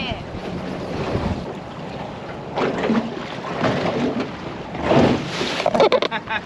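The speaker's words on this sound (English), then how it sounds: "Ah, and the wind's picking up." Gusty wind buffets a boat in a harbour on an east-coast bay, a steady roar with stronger surges, water sloshing underneath and a few knocks near the end.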